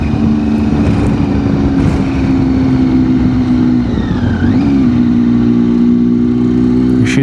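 A Triumph Tiger XCX motorcycle engine drones steadily while riding, a loud continuous hum with a slight pitch dip midway, heard alone without talk.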